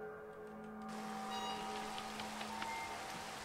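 Steady rain falling, a faint broad hiss with scattered drops, alongside a low constant electrical hum.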